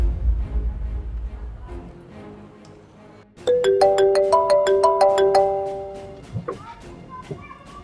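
A mobile phone ringtone for an incoming call in a street scene with a rickshaw cuts in suddenly, looping a clear, bright melody of chiming notes over the background.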